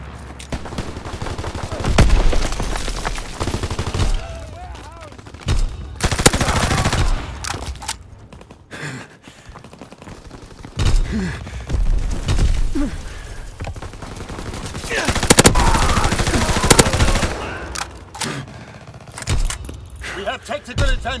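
Machine gun fire in Call of Duty WWII, bursts of automatic shots mixed with explosions and battlefield clatter, loud and close, coming in waves with short lulls between.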